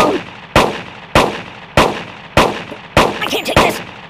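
Six sharp gunshots ring out at a shooting range in the video game Kick The Buddy 2, loud and evenly spaced about half a second apart, each with a short fading tail.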